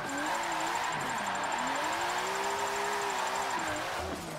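A car engine in Forza 7 revs and wavers after a clutch kick mid-drift, the pitch rising and sagging continuously at close, steady loudness.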